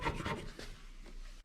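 A tool scrapes partly cured epoxy off a granite-look kitchen countertop in short rasping strokes, two quick scrapes followed by quieter scraping, heard up close.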